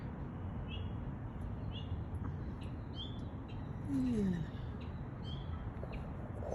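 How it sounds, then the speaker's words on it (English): Birds nesting among garden pots with night-blooming jasmine chirp faintly and sporadically outdoors over a steady low background hum, with one brief, clearer descending call; a voice speaks a single short word. "Birds are going crazy today"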